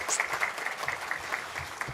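A church congregation claps during a Sunday worship service to welcome a member back from Iraq, a dense, steady patter of many hands sustained throughout at moderate distance.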